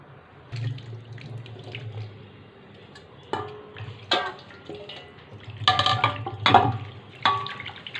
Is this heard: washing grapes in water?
yes